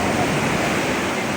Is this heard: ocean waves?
yes